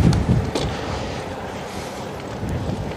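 Strong crosswind buffets the microphone on a boat at sea, a low roaring rumble with bursts near the start and a steady blustery wash throughout, no talking.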